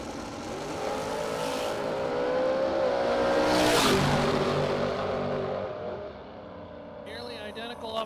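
Drag race cars launch off the starting line at a Superbucks Showdown event, engines roaring and rising to a loud peak, then fading down the track as an announcer talks.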